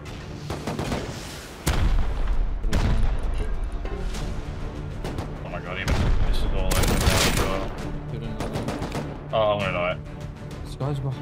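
Gunfire in Rust coming from behind a base, with several loud bursts of shots and booming impacts spread across the stretch, mixed in with a person talking.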